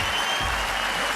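A studio audience applauds Abhishek Bachchan with dense, steady clapping that stays loud throughout and has no talk over it.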